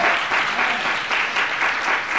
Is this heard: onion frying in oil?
no